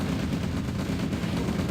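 Tank and artillery fire in the Red Alert real-time strategy game, a dense continuous barrage of overlapping booms and rattling shots with no pauses, loud and mid-distance.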